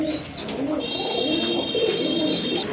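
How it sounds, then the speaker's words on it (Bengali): A single male pigeon coos close by in repeated low, rolling phrases. A thin, steady high whine runs alongside the cooing, and no one speaks. "ওই যে ডাকতেছে এইটাই নর"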